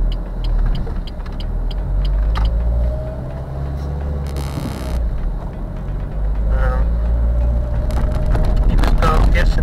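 A car drives along a potholed road in Poland, its steady engine and road rumble loud and close throughout, with thumps and rattles from the rough surface and someone talking over it.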